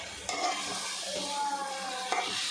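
Spoon stirring raw prawn and tomato curry with coriander in a pan, quiet scraping and soft wet sizzling with a couple of sharper clacks against the pot.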